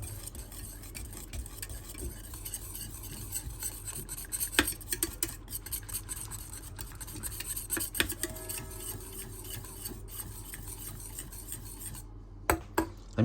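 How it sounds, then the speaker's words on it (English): Satay sauce is stirred in a jar with a continuous gritty rubbing and scraping and a few light taps against the glass, over a low background hum. "Let me mix this."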